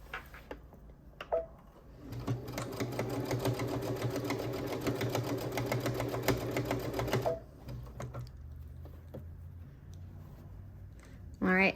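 A sewing machine stitching a quilted Christmas stocking closed, a rapid steady mechanical whir and tapping running for about five seconds, with quieter handling noises before and after.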